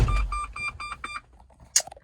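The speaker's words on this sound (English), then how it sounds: "I like lots of beeps and bongs." Warning chimes inside a 2002 Range Rover P38 Westminster: a quick series of six clear, evenly spaced electronic beeps, then a short lull and one brighter chime, heard close up inside the cabin.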